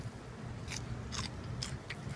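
Crisp crunchy bites into fresh sweet peas in a garden, four of them at uneven intervals, close to the mic over a low steady background hum.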